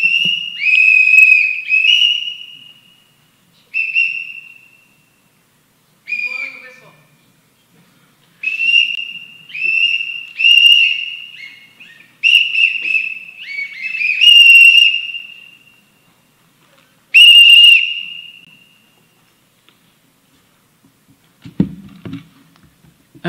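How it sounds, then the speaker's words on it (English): A whistle is blown in short, sharp bursts at a public comment session of a meeting. The shrill tones repeat irregularly over about twenty seconds, loud and close, with brief silences between them and no talking. "I'm blowing the whistle on this whole show."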